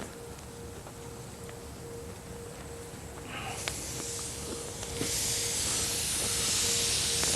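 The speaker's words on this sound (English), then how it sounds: "but we do want to create good steam." Steam hisses from a backyard luau pig roast pit as water soaks the fire, a broad continuous hiss that grows louder in steps and stays strong to the end.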